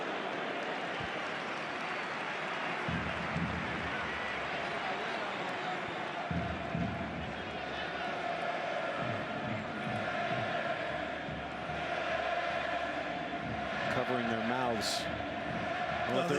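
Dense football stadium crowd at Barcelona vs Atlético Madrid roars steadily throughout, with jeering swells and commentators talking over the noise.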